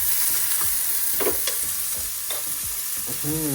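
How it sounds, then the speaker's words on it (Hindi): Mushrooms fry in a pan with a loud, constant sizzle, close up, with light scraping from stirring and a brief clink near the end. "तो इधर अपने मशरूम हल्के फ्राई करो, देन इसमें सीधा अंडा डालेंगे।"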